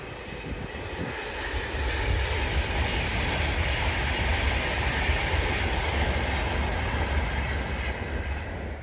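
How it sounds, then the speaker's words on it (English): An Avanti West Coast train rumbles through a station on the line near Milton Keynes. It makes a steady, loud roar that swells a little as it passes, with no voices over it. "there's the Avanti West Coast service to Manchester, I think it is."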